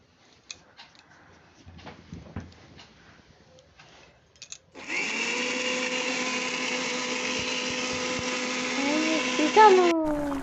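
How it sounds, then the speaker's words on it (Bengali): An electric mixer grinder whirs up to full speed and churns potato, ginger and garlic into a paste in a steady loud drone, its pitch shifting near the end; quieter voices and kitchen clatter come before it starts. "সঙ্গে নিয়েছি আলু, আদা, রসুন, সব মিক্সিতে পিস করে"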